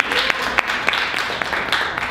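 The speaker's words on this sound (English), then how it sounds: "So give her a round of applause as well." A live audience at a motivational talk claps in a steady wash of scattered hand claps, with sharper individual claps popping through the sustained applause for the whole stretch.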